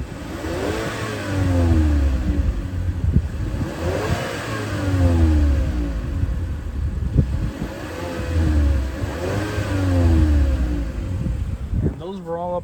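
A 2013 Mazda 3 hatchback with 85k miles revs to around 3,500 RPM while heard from behind, rising and falling in three or four repeated pulls with idle gaps between them, and a voice speaks briefly near the end.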